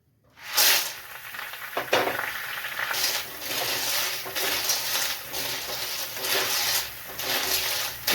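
Water snails frying in oil with masala in a pan give a steady hissing sizzle that starts abruptly and swells and eases in pulses, fairly close, with no talking.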